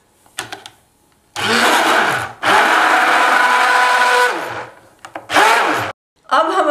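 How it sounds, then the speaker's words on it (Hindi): An electric blender whirs loudly in short and longer bursts, mixing eggs with dissolved sugar for bread pudding, with brief pauses and quiet gaps between pulses. "अब हमने इसमें एग्स डाल दिए हैं और फिर से ब्लेंड करेंगे।"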